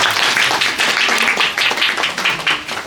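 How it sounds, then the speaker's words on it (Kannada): An audience claps for a boy about to sing at the eighth anniversary celebration of a school for children with special needs: dense, steady applause from many hands, close and loud throughout, with no talk over it. "ಬರಲಿ ಒಂದು ಚಪ್ಪಾಳೆ ಅವನಿಗೆ"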